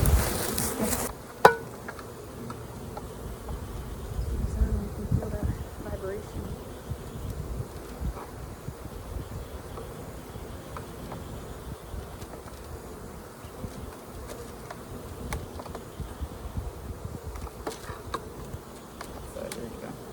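Many honeybees hum and buzz close by while four packages are being installed into hives outdoors, a steady swarm drone with scattered louder passes and soft rustling handling noises.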